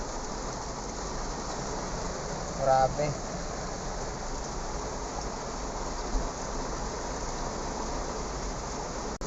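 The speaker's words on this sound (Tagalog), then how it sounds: "sobrang lakas ng ulan" Heavy rain pours steadily in a broadband wash at the NAIA Terminal 1 parking area in Manila, with a brief spoken exclamation and a few tonal blips partway through.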